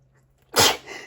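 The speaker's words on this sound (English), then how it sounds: "Excuse me, I had to sneeze." One sudden, loud, close sneeze bursts out after a near-silent lead-in, followed by a brief fading exhale.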